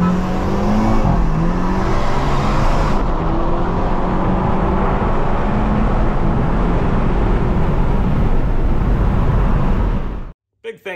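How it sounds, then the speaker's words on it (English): A Hyundai Elantra N with stage 4 modifications races a Kia Stinger GT, loud sustained engine roar and wind rush filling the recording almost to the end, with a brief shift in pitch early on before cutting off abruptly. "watch the Elantra N versus the Kia Stinger GT"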